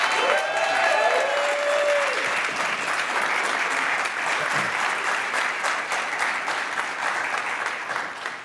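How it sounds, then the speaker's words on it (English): Applause from an audience at an equality forum for Richard Tisei, a steady, dense wash of clapping that holds for the whole stretch, with a few voices calling out near the start and fading slightly toward the end. "for those who would like to applaud for Richard Tisei"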